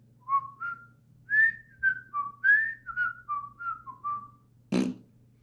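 A TV show theme tune whistled by a person, a melodic run of about a dozen bright notes in a steady tune, followed by a short sharp burst of noise at the end.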